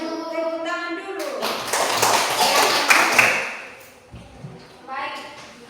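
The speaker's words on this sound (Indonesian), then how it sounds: "Tepuk tangan dulu" Children in a classroom clap their hands together in a burst of rapid claps that swells and fades, with a voice talking before and after.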